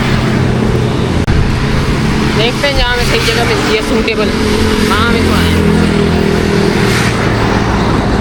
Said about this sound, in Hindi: अभी यहाँ गाड़ियों का शोर भी बहुत ज़्यादा आ रहा होगा।